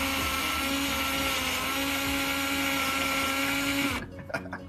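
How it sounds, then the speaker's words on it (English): An electric drill spins a potato against a handheld peeler, a loud steady high-pitched whir with scraping, then it abruptly stops near the end, leaving a few clattering knocks. "Take an electric drill, get your potato, get a peeler"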